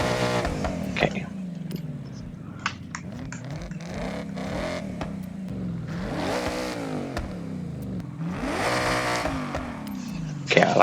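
A 700-horsepower drift car's engine revs repeatedly in Forza Horizon, rising and falling in several swelling bursts with a buzzing tone, while someone talks quietly in between.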